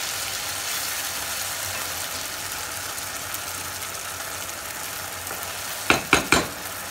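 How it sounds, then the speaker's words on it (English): Masala paste for a dhaba-style paneer hara masala sizzling in a hot pan, a steady frying hiss, then a few sharp scraping clanks of a spoon as it is stirred near the end. "So at this stage we are going to put the paste into. Mix it very gently,"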